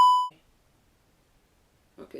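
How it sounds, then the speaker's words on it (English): A loud, steady censorship bleep sounds at the opening, cutting off sharply after a quarter second, followed by near silence and then brief talking toward the end. "Can we have another beep?"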